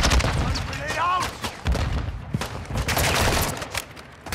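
Dense bursts of automatic gunfire and booming shots fill a firefight in the DMZ video game, loud and close, with a voice talking over the chaotic volleys.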